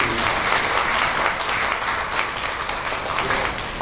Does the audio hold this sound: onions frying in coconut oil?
no